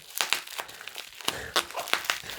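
Crinkly plastic packaging of a beer mail delivery is ripped and crumpled open in a series of sharp, close tearing bursts.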